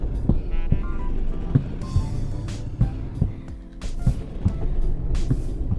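A Screecher mob in the Minecraft Radium's Armament addon gives off a steady, throbbing heartbeat with a low snoring hum, layered over faint background music.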